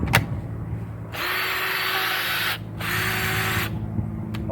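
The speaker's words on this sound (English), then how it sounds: "this particular drill is variable speed, so I could go really, really slow or speed up partially or go full wide open" A cordless variable-speed drill fitted with a homemade battery adapter runs in two sustained bursts at steady high speed, loud and close, separated by short pauses with faint clicks.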